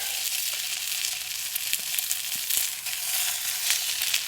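A couple of pork patties frying in a pan on a Bushbox XL camping stove, giving a steady, close, bright sizzle throughout with small pops and crackles and no talking.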